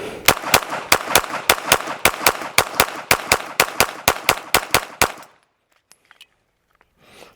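A Glock 17 Gen 6 pistol fires reloaded practice ammunition in a fast, steady string of about twenty loud, close shots over five seconds, then near silence with a few faint clinks.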